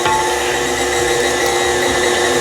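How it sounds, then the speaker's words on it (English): An electric meat grinder forces pork through its plate while making homemade breakfast sausage, giving a loud, steady mechanical whir with constant motor hum and no talking. "I'm not doing links or anything, I'm just trying to grind it"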